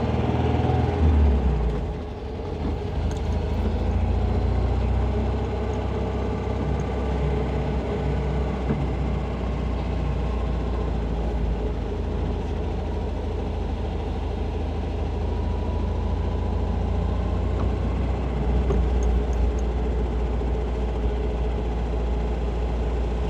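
Fully restored 1971 MG MGB Roadster cruising downhill in second gear at about 20 mph and 1800 RPM, its low engine drone steady and continuous from inside the car with no speech.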